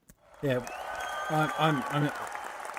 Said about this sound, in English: that was a cheer with higher production values